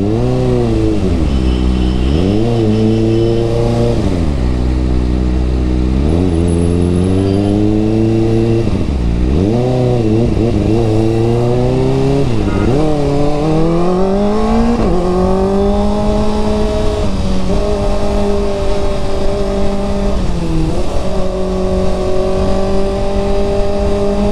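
A Kawasaki Ninja ZX-4RR sport motorcycle engine revs repeatedly, its pitch climbing and dropping in steady waves. It sounds close and loud over a constant traffic rumble.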